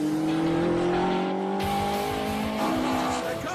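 A car slides through a bend, its tires squealing loudly in long sustained tones over a constant engine roar, heard up close with no speech.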